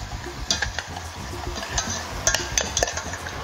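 Blueberry ginger sauce being stirred in a pan, with soft scraping and a few sharp clinks of a utensil against the pan over a steady low simmering hiss.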